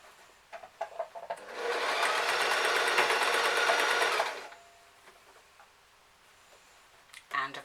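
A sewing machine stitches a row along a fabric bag in one steady, loud, whirring burst of about three seconds. Soft handling clicks and taps come before and after it.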